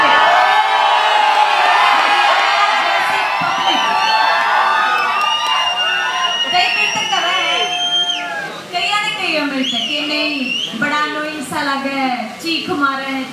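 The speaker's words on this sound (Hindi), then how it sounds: "चीख मारे हैं चिल्ली मारे हैं" A large crowd screams, cheers and whoops loudly and continuously at a product launch event in Panipat, with shrill high-pitched shouting throughout and a few voices rising above the din.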